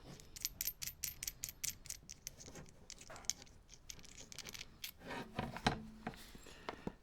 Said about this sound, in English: What we do is take our nut off.